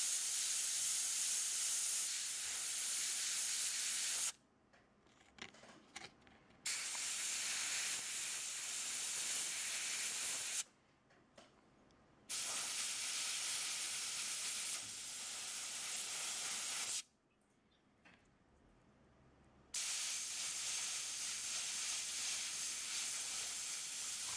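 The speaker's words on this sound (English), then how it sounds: "Again airbrushing, again small area." An airbrush sprays yellow paint onto a miniature dwarf figure in long, steady hissing bursts, broken by three short pauses, close and fairly quiet.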